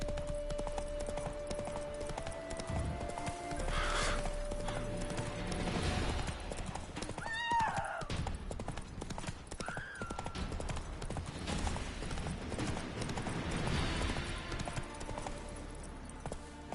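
Roach, the horse in The Witcher 3, gallops with a continuous rapid clip-clop of hooves, loud and close, mixed with game ambience and a brief whinny-like tone.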